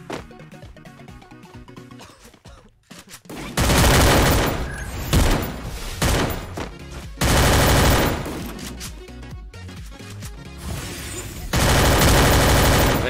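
MP5 submachine gun fire in the Free Fire mobile shooter, loud rapid bursts of automatic shots in several long stretches with brief pauses between them, over game music and effects.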